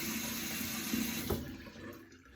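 Tap water runs steadily into a bathroom sink while rinsing off after shaving, a soft close splash with a brief clunk before the flow quiets.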